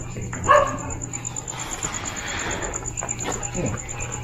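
A dog indoors gives a single sharp bark early on, then faint scattered yips follow under a steady hum and muffled voices nearby.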